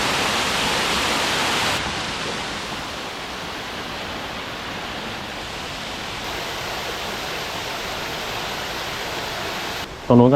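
Huai Yang waterfall at a large pool on its third tier, a steady broadband rush of falling water, loud and continuous, heard nearby with no breaks throughout.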